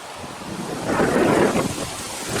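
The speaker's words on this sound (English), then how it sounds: "It's so windy, I can't even get a good picture of them." Strong, ice-cold wind blowing at Norton Place Park on a sunny day, a steady loud roar buffeting the microphone and swelling briefly in the middle.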